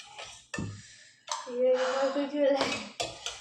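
A drink is poured into metal tumblers during an eating challenge, with clinks and clatters of the tumblers, a short ringing pour tone and quick knocks up close.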